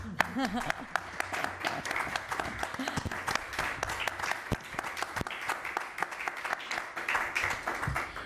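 Audience at an education conference claps in a sustained round of applause, fairly dense and moderately loud, with a voice briefly audible at the start and scattered louder individual claps throughout.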